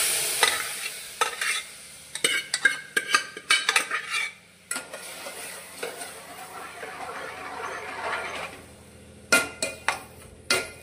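Dal is poured into a hot tempering in a pot for a Goan-style varan. A bright sizzle rises, and repeated spoon scrapes and clanks against the metal pot come in uneven bursts as it is stirred.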